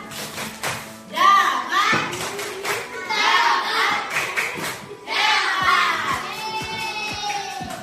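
Schoolchildren perform the 'tepuk hebat' clapping chant in class: sharp, rhythmic hand claps and table taps punctuate loud, sing-song group chanting that rises and falls across several phrases.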